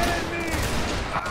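Video game gunfire crackles in a dense, continuous fusillade of overlapping shots throughout a short burst, loud and busy, with a voice faintly mixed in.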